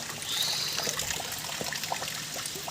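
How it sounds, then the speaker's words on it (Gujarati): Rainwater trickles and drips steadily during a heavy, continuous morning downpour, a faint broadband wash with scattered small drops close by and no talking. "બધા વરસાદ પાણી પાણી પાણી"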